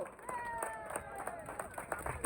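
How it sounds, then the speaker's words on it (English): Outdoor crowd at a farmers' rally in Truro, Cornwall, clapping in scattered bursts while voices carry on underneath. "Let's have a big round of applause for all the farmers"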